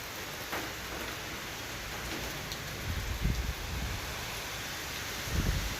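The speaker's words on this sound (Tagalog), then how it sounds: "Maulan na may araw, mahangin pa." Steady afternoon rain patters continuously while gusts of wind rumble low against the microphone, swelling briefly a couple of times.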